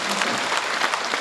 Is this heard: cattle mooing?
no